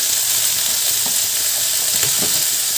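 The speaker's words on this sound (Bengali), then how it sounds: "একটু নাড়াচাড়া করে দেবো।" River fish sizzle loudly in hot oil as salt and turmeric are stirred in, a dense, close, continuous frying hiss broken by faint stirring scrapes.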